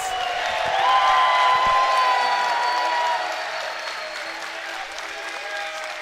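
A large crowd at a Mortal Kombat 11 tournament top 8 applauds and cheers loudly, swelling to a peak and then easing into sustained clapping that continues at a lower level.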